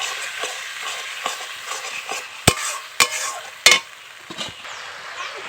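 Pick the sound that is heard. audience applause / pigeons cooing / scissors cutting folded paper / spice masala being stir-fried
spice masala being stir-fried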